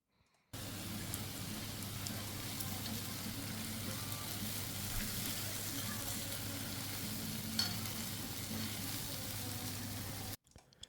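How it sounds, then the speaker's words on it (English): Beef sizzling on a hot skillet at a Pepper Lunch restaurant in Japan, a steady, even crackling hiss of frying that holds for about ten seconds with a low hum beneath and no talking. "they put beef in a sizzling skillet"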